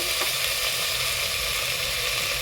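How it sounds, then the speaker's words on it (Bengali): Potatoes and tomatoes fry in a pan for a quick potato curry, giving a continuous even hiss of sizzling oil throughout, close and steady with no talk. "একটু হালকা ভাজা ভাজা করে নেওয়া হবে"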